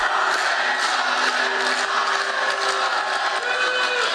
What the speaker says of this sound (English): you could also hear that the crowd is cheering